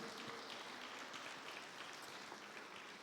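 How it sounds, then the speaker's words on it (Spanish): A church congregation claps together in sustained, dense applause that stays even and moderately loud throughout, with no voices rising above it. "Dale un fuerte aplauso al Rey de Reyes."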